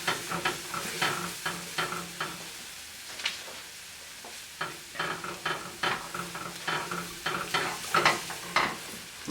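Welsh rarebit sauce with Worcestershire and mustard being stirred in a pan, sizzling softly while a utensil scrapes and taps in an uneven rhythm of strokes, close by, with no talk.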